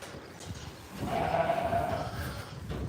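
Goats on a farm during kidding season, with a single drawn-out bleat rising after the first second and holding for about a second amid low barn noise.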